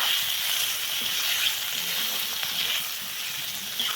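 Pieces of boal fish sizzle in hot oil with a cooked spice paste in a pan, a steady close-up frying hiss with faint stirring and no talk.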